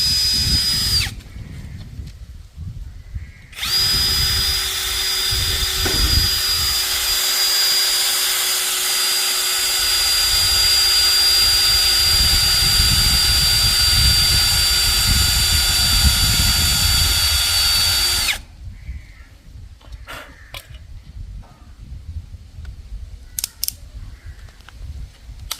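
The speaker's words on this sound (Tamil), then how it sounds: "இப்போ ஓட்ட போடுறோம்." Power drill boring holes along a marked line during home repair work, a steady loud whine running for about fifteen seconds after a brief first burst, then stopping to quieter handling sounds.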